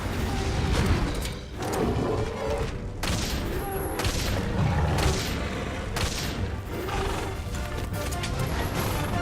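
A hunter fires at a monster in Monster Hunter World: a continuous mix of booming shots and clattering impacts, with rhythmic, hoof-like thuds and no talking.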